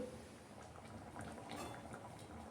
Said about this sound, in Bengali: ডালটা ফুটুক আর একটু